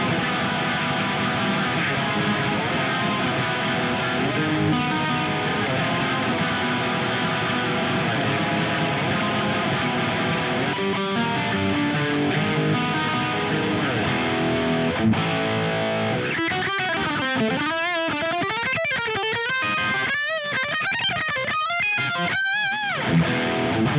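Distorted electric guitar through an ENGL E530 preamp and Peavey 6505 power amp, no reverb or tube screamer, playing sustained heavy chords and riffs, then choppier palm-muted and lead phrases toward the end, loud and continuous.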